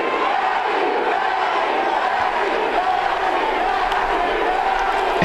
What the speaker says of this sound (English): there you hear the crowd getting into it